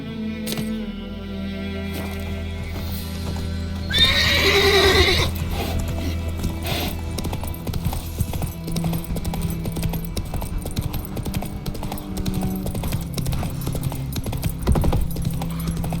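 Horse hooves gallop steadily with a whinny in The Witcher 3, the clip-clop running throughout under game music and ambient noise.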